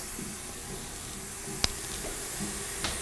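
Water runs quietly through a spin rinse dryer's rinse cycle, a soft steady hiss with a couple of brief sharp clicks along the way.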